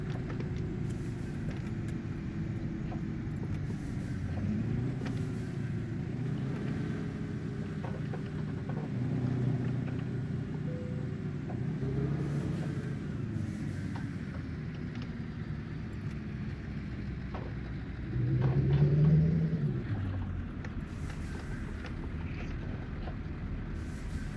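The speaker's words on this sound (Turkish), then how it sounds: "Oo araba ne bağırıyor ya. Vites attırmamışız, unutmuşuz." Scania R440 truck engine in Euro Truck Simulator 2, held at high revs without shifting gear, a steady droning roar with rising and falling pitch that swells louder near the end.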